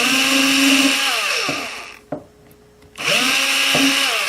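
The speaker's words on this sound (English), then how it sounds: "that means I'll have to drill out these plastic pieces" A power drill bores out the plastic pieces of a case handle, whining loudly at high speed, winding down to near silence for about a second, then spinning up again close by.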